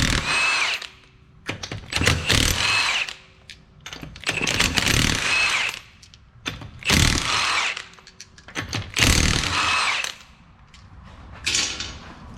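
A power tool whirs in repeated short bursts, loud and close, as five 19mm lug nuts come off a Ford Escape wheel, with pauses between each nut.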